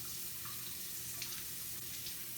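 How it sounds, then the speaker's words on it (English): A sink tap runs warm water in a steady, even hiss with a faint splash into the basin, constant throughout, with no voices. "And then just run it under warm water"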